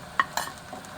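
Vegetables with salt, turmeric and crushed red chilli being stirred in a pan: two brief scraping strokes close by, over a soft sizzle.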